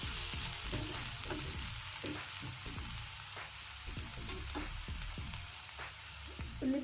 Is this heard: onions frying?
yes